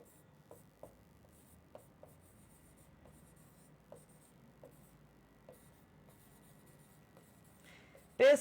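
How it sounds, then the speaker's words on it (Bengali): Marker or chalk scratching across a classroom board in short separate strokes with pauses between them, quiet and close, ending in a sudden louder burst. "এটাকে নিচে লিখি সুন্দর করে"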